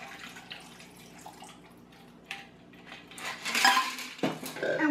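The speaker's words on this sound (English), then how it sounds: "we're going to add some more ice in there. And then we're going to go ahead and pour this" Cocktail poured into a glass of ice for a Christmas drink, a soft clink of ice and glassware early on, then a louder splashing pour and clatter toward the end, close and alone.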